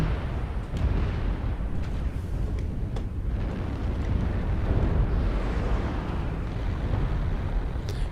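Dense, continuous rumbling explosions from incoming missiles pound away in Mechwarrior Online, loud heavy blasts blending into a steady booming barrage with occasional sharper cracks.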